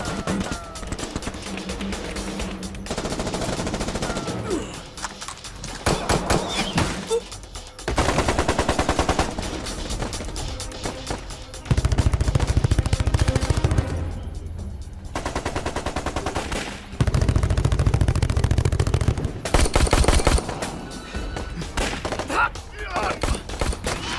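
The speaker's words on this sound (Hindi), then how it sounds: "गोलियां चलाते रहे।" Sustained bursts of rapid automatic gunfire crackle through a dubbed action scene in a zombie film. Dense layered effects and shouting surround the loud, repeated volleys.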